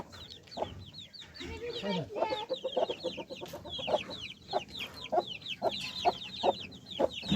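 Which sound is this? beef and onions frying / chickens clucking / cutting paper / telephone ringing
chickens clucking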